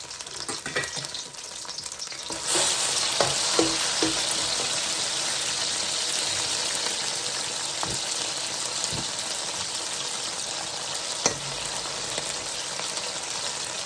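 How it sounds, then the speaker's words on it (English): Minced garlic frying in a pan, a loud dense hiss that swells suddenly and then holds steady, broken by a few faint clicks and knocks. "I'm going to put about 2 tablespoons of garlic, minced garlic."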